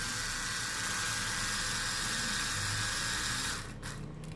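Small screwdriver or electric driver unscrewing screws from an Acer Aspire 3 14-inch laptop, a continuous close whirring hiss that cuts off near the end.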